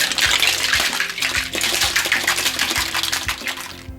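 A cocktail shaker holding Midori and thickened cream is shaken hard, giving rapid rhythmic sloshing and rattling beats, loud and close, with no talking.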